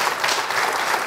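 Studio audience of a television programme breaking into dense, loud applause, a brief burst of sustained clapping with no voices over it.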